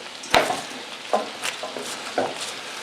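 Corned beef seasoned with salt, pepper and garlic is stirred in a pan, giving a few sharp scraping knocks spaced about a second apart over a soft, steady sizzle, close and moderately loud with no talking.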